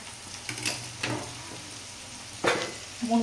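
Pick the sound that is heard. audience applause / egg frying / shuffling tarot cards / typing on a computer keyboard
egg frying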